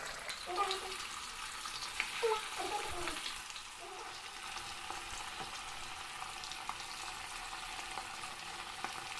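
Cherumeen fish fry in coconut oil with curry leaves, a soft steady sizzle with a few louder crackles and pops near the start, fairly quiet and close, with no talking.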